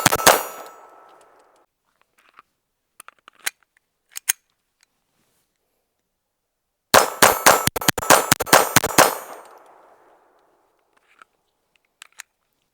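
A Retay Arms RXP 22 rifle fires Federal Auto Match ammo: one sharp crack at the start, a few scattered single shots, then a rapid string of about ten crisp reports fired in quick succession and ringing out loud and close.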